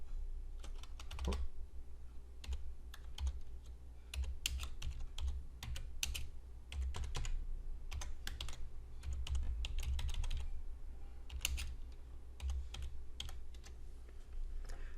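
Typing on a computer keyboard: a steady run of quick, crisp key clicks in irregular bursts with short pauses, close and fairly quiet over a low background hum, with no talk.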